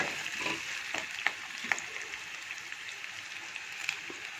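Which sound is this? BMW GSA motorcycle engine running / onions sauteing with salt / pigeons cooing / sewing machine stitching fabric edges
onions sauteing with salt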